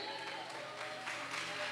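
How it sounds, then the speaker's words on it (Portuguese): Church congregation clapping and praising during a sermon, a dense continuous roar of applause mixed with raised voices, filling the short stretch at a fairly even level. "Diga glória a Deus e aplaude a Ele."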